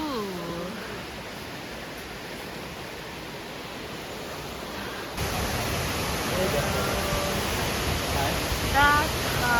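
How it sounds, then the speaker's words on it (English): Sekumpul waterfall in Bali, heard as a steady broad rush of falling water from a distance, growing louder partway through, with brief faint voices over it. "That's how the waterfall looks like."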